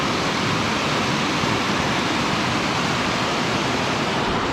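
A river on a hiking trail in the Columbia River Gorge area, heard as a continuous broadband rush of flowing water, loud and steady, with no voices.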